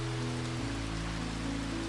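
Gentle rain falls outside a window in a smooth, unbroken hiss of drops, steady and moderately loud, with a low sustained hum beneath and no speech.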